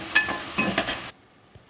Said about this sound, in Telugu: సిమ్లో పెట్టుకుని ఒక 5 నిమిషాలు వేయించుకోవాలి. ఈ బ్రౌన్ కలర్ వచ్చే వరకు వేయించుకోవాలి.